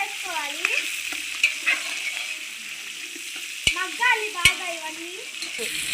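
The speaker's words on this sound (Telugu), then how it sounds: "ఆయిల్ హీట్ అయినా తాళింపులు వేసుకోవాలి" Tempering spices frying in hot oil for a Muslim wedding-style dish, a steady sizzle with sharp crackles and two loud pops, while a faint voice murmurs in the background.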